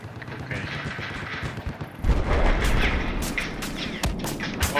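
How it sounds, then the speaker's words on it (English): Gunfire in the Battlefield video game comes from a sniper shooting at the player, with a dense, rumbling barrage and sharp cracks of fire that swell loudly partway through and continue in heavy bursts. "Oh look, I'm getting sniped at already."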